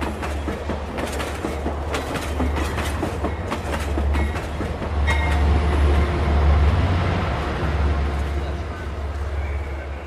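A moving train rolls along with a steady low rumble and rhythmic clickety-clack of wheels over rail joints, used as a continuous background effect in an audio story.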